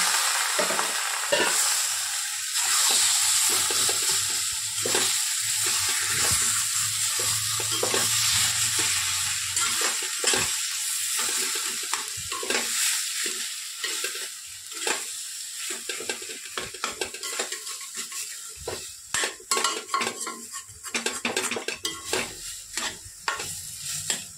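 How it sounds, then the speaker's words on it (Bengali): Boiled soybeans with turmeric powder stirred in a frying pan, a steady close sizzle of hot oil under repeated scraping strokes of a spoon against the pan, with no voices. "হলুদ গুঁড়ো দিয়ে এবার আমি এই যে সেদ্ধ করে রাখা যে সয়াবিনটা এটা দিয়ে দিলাম।"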